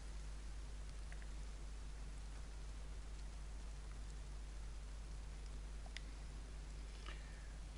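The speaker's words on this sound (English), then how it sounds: "we wait for the rain to stop" Rain falls steadily in the video game DayZ, a faint, even hiss of drops with a few scattered ticks, with no one talking over it.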